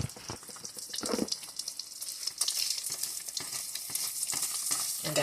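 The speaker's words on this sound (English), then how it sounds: "frying. It's a fried egg." An egg fries in a pan for tofu fried rice, giving a soft, steady crackling sizzle with light scraping of stirring, quiet and close.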